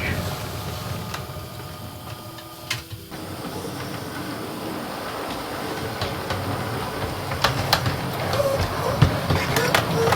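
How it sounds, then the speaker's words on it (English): Model trains rumble past under a bridge, a steady mechanical clatter and hiss with occasional sharp clicks, some voices in the background. "And the first trains pass under the bridge."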